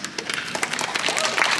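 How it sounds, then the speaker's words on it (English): Convention panel audience at Anime Pasadena claps, scattered hand claps quickly building into denser applause over a short stretch, with voices faintly mixed in. "We got a slow clap."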